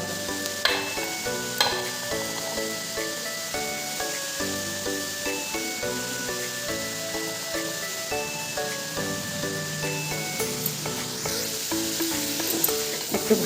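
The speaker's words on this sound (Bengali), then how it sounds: "ভালো করে নেড়ে চেড়ে দিলাম ভাজা ভাজাই করব" Food fries in a pan as it is stirred, giving a soft continuous sizzle with light, rhythmic scraping strokes under steady tonal background music.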